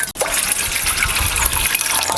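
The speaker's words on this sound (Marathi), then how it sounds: "त्यामध्ये आपण एक तांब्यावर आपल्याला पाणी घालायचं आहे" Water pours steadily from a small metal pot into a bowl with a loud, splashing gush, close up and continuous, no voices.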